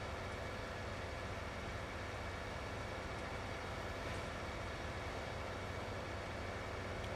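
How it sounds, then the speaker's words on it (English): A train rolls past in the Farming Simulator video game, giving a steady, dense mechanical rumble and hiss that holds an even loudness from start to finish, with no talking over it. "Oh, train's coming."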